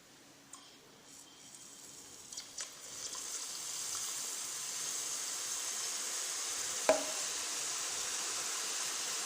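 Boondi batter drops into hot oil and sizzles, a bright frying hiss that builds from faint to a steady, even roar, with a few small taps and a single sharp click along the way.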